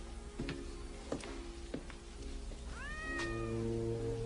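A cat meows in a 1980 film scene, several drawn-out, rising cries near the end over a steady room hum, following a few sharp ticking clicks earlier; no one speaks.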